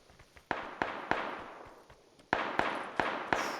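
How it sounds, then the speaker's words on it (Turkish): Gunfire cracks in a video game firefight, a series of sharp single shots at an uneven rhythm, some distant and softer, then louder closer reports in a quicker cluster, with no talking. "çatışma sesi"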